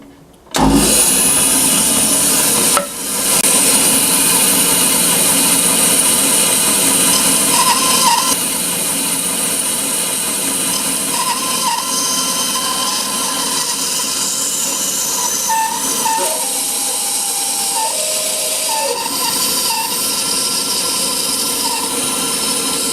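Band saw with its table tilted to an angle cutting a single piece of wood: a loud steady motor whine starts abruptly, dips briefly, then holds a sustained hissing cut with shifting tone as the blade works through.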